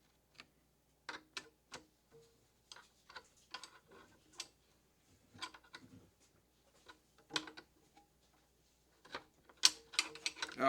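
Ratcheting wrench clicks in short bursts while working in cramped confines during a repair job, sporadic and moderately close, with pauses between strokes and a few louder metallic clatters near the end.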